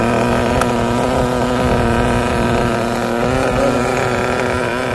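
The engine of a Hobbytech NXT or Kyosho Inferno Neo 3.0 RC buggy runs outdoors with a steady, high buzzing drone. It is close and loud throughout, with no talking.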